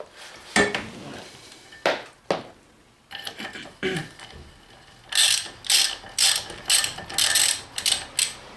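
Ratchet wrench removing the wheel nuts on a Honda PCX 125 scooter: several bursts of quick, loud clicking, the later ones in a steady run of fast ratcheting strokes, close up with no talking.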